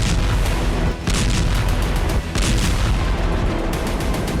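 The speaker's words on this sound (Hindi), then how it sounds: "आईडीएफ के फाइटर जेट की सोनिक बूम से लेबनान थर्रा रहा है।" Sonic booms from Israeli military fighter jets over Lebanon: a loud, continuous deep roar with several heavy blasts rolling through it, no voices.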